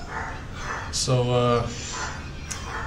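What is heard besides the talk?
small dog yapping in the background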